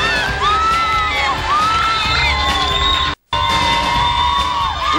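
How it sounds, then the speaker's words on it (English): A crowd at a basketball game between the California Quakes and Florida Sundogs cheers, whoops and shouts loudly and steadily. Whistles or horn-like tones cut through the noise, and a brief dropout of silence breaks it near the end. "the crowd loving the action in the close game between the Quakes and the Sundogs"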